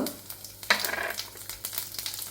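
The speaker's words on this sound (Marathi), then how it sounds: "थोडंसं तेल टाकलेलं आहे तेल गरम झालं आहे आपण मध्ये जिरी हिंग" Cumin seeds and asafoetida hit hot oil in a pan with a close, crackling sizzle, and spoon stirring scrapes through the spitting sound.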